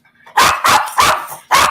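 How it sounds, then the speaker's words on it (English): A dog barks four times in quick succession, loud and close, the sharp barks alone with no talk. "I'm trying to talk, but the dog won't stop barking."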